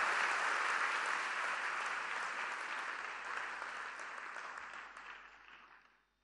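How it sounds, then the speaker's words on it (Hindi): Audience applause at a political event with Uttar Pradesh Chief Minister Yogi Adityanath, a broad, sustained roar of clapping that holds steady and then fades away over several seconds. "आपकी तालियों के प्रणाम के साथ।"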